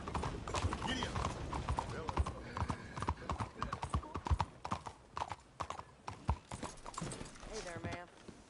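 Hooves clip-clop steadily beneath a trotting horse in the open-world Western video game Red Dead Redemption 2, a brisk repeating beat with a brief whinny near the end, while someone talks over it.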